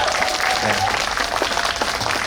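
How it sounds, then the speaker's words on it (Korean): Audience applause at a concert marking the National Library of Korea's 78th anniversary, steady dense clapping filling the hall with a voice briefly heard over it. "다시 한번 박수 한 번 크게 부탁드리겠습니다"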